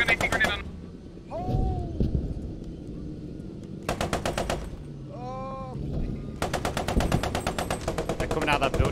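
Machine-gun fire rattles in long, loud automatic bursts during a Post Scriptum tank battle with a Vickers tank, the bursts separated by gaps where a voice speaks over radio-like chatter.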